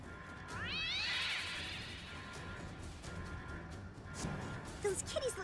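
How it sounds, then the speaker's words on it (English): Cats in the video game South Park: The Fractured But Whole let out a loud, yowling meow, then more scattered cat cries and thumps follow, mixed with game sounds and someone talking. "These are cats, not dogs."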